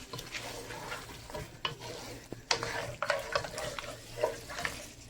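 Spinach and meat curry being stirred and fried in a pot: steady sizzle with repeated scraping strokes of a spoon against the metal, close and fairly quiet, no talking.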